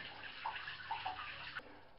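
Water running and splashing as a Newtonian reflector telescope mirror is rinsed off under a tap, a steady close wash with small gurgles, stopping abruptly near the end.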